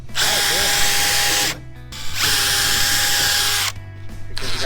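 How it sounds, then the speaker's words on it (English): A power drill whirs loudly in two long bursts with a brief pause between, then starts again briefly; a voice murmurs faintly underneath. "I got my drill."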